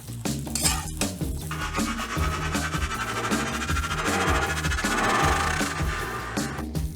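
Beef chow fun tossed in a wok, a busy clatter of the spatula scraping and knocking against the metal over a continuous sizzle, loud and close throughout.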